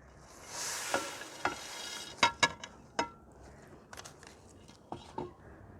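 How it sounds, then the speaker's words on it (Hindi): Fried boondi stirred into lukewarm sugar syrup in a village kitchen, heard as a soft wet rustle with several sharp spoon clicks and scrapes, close and quiet. "और इसको मिक्स कर देना।"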